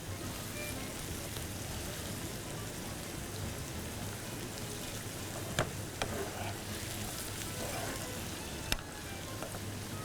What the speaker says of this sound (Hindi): प्याज को फ्राई करने में बहुत जल्दी नहीं कीजिएगा